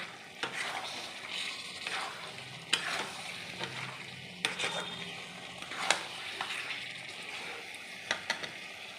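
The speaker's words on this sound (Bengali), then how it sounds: "লঙ্কা গুঁড়ো, আমি ভালো করে কষবো অনেকক্ষণ ধরে।" Chilli powder, turmeric and spices being sautéed for chicken kosha, a soft steady sizzle with repeated scraping stirs of a spatula against the pan, close and moderately quiet.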